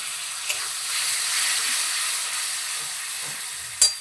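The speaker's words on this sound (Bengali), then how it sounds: "তারপর হলুদ গুঁড়াটা দিয়ে দিই, এবার ভালো করে মশলাটা ভাজি।" Turmeric powder and masala fry in a hot kadai on high heat for a Bengali kola machar curry, giving a steady close broadband sizzle with a couple of sharp utensil knocks and no talking.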